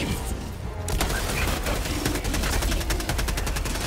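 Rapid automatic gunfire from a weapon in the Helldivers 2 video game, a dense, loud burst of shots that starts after a brief lull and continues steadily.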